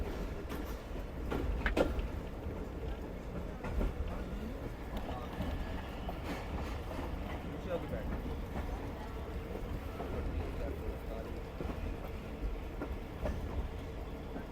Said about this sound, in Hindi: गोजरा रेलवे स्टेशन के प्लेटफार्म से बाहर निकलते हुए